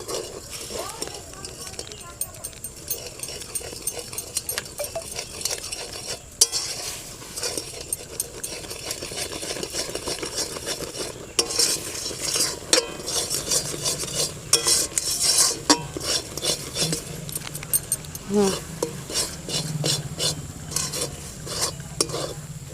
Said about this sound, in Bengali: হালকা হালকা করে মুড়ি গুঁড়ো দিতে হবে আর নাড়াতে হবে